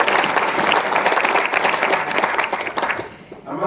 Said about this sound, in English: So let's give a warm round of applause.